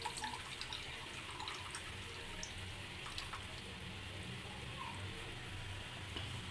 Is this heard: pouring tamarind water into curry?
yes